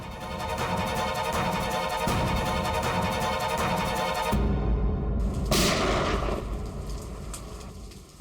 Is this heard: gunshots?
yes